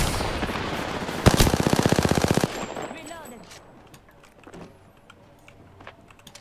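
Rapid automatic gunfire in a battle-royale style shooter video game: a loud burst of closely spaced shots for about a second, followed by quieter scattered shots and game ambience in the distance.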